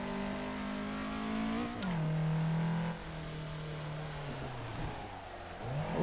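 A Toyota from a Japanese car pack in the racing game Assetto Corsa drives on track, its engine droning steadily loud, rising and falling in pitch as it revs, shifts gears and eases off under braking.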